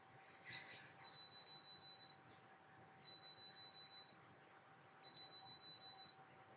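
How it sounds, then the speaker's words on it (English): A washing machine beeps in the background with three long, evenly spaced high-pitched tones, each lasting about a second, fairly faint and alone in a quiet room. "if you can hear that beeping in the background, that's my washing machine"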